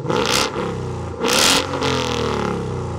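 2017 Ford Mustang GT with an aftermarket exhaust blips loud and close, two sharp revs about a second apart, each falling back to a deep burbling idle.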